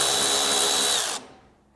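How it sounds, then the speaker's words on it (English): A power drill spins steadily, removing 8mm screws from behind the fender well trim of a 2023 Jeep Grand Cherokee, a loud continuous whir that cuts off abruptly near the end and leaves a faint fading tail. "we're going to have 4 8mm screws that we're going to need to pull out"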